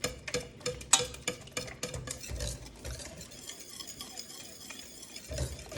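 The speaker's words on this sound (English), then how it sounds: "And you have to keep stirring because it will stick to the bottom of your pot." A whisk stirs banana pudding mixture in a pot, giving a run of quick, fairly close scraping taps against the pot that settle into a softer, steady swish.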